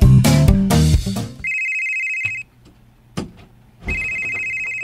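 A cellphone rings in a domestic scene, with a loud electronic ringtone tone sounding twice in sustained bursts, cutting through music and noise at the start and separated by a quieter gap.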